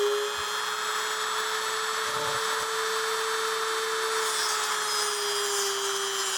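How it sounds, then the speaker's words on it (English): A small rotary cutting tool slices through screws on the horn pad of a 1969 Ford Mustang Mach 1 three-spoke steering wheel, giving a steady high whine that holds for the whole stretch with slight grinding changes. "Let's cut a couple of screws real quick."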